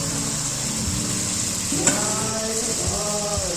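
Potatoes and pointed gourd fry in hot oil in a wok, giving a steady, close sizzle throughout, with a brief clatter of stirring partway through.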